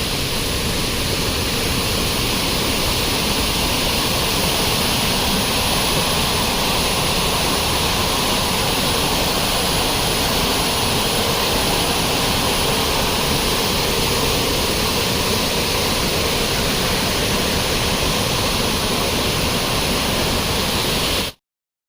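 A small waterfall on a forest trek roars in a loud, dense, unbroken rush of water that fills the whole stretch, with no voices over it.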